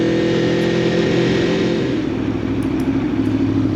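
An Aprilia motorcycle rolling along neighborhood streets on a sunny day, its engine giving a steady, close rumble with a constant drone and no voices.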